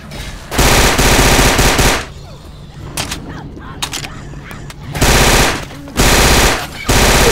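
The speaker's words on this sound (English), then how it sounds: "I can't hear you over my machine gun." Machine gun fire in the zombie shooter Left 4 Dead, loud sustained bursts of rapid shots broken by quieter gaps with scattered single shots and game noise, near and overpowering.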